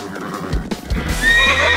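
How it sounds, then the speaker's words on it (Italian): A cartoon winged horse whinnies loudly, a rising neigh with some clip-clop of hooves underneath, close and clear with no talking. "Ah, non posso crederci! Un cavallo alato!"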